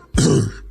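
A man clears his throat once on a radio show, a loud close raspy grunt lasting under half a second, alone.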